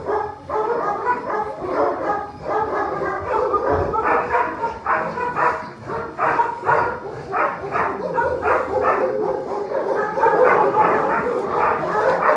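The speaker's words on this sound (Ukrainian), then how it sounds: "Вже біжать, вже біжать, почули, що в мене є їжа, вже вони біжать." Several dogs at an animal shelter bark excitedly at feeding time in quick, overlapping bursts with a few yips and whimpers, close by and loud, continuing without pause.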